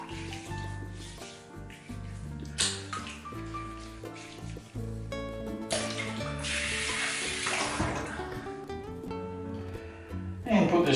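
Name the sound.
water running to re-wet the face while shaving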